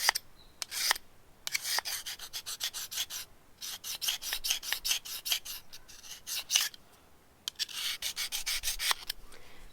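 Steel hoof knife blade being sharpened toward its tip for horse hoof trimming, a series of short, crisp rasping strokes in uneven bursts with brief pauses, close and fairly quiet, no voices.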